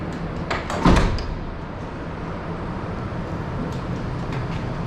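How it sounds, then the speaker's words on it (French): A large landing gear door opens on an Airbus A330 in a hangar: one sharp mechanical clunk, then a steady, even hum of machinery. "Cette trappe s'ouvre exactement comme ça s'est passé là."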